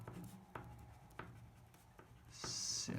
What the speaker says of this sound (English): So I'm gonna write my name right here.